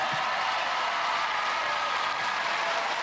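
A television studio audience applauds a departing contender on a 1997 British gladiator competition show, with steady, dense clapping that holds at an even level throughout, and no voices come through over it.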